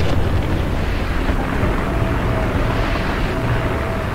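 High-explosive shell blast in archival war footage, a dull rumbling boom with heavy low-end roar sustained for several seconds, loud and without speech.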